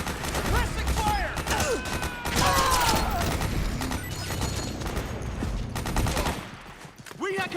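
Sustained automatic suppressing fire from a firefight in Metal Gear Solid 4: Guns of the Patriots on PS3, dense overlapping bursts with booms and shouted voices over the top throughout.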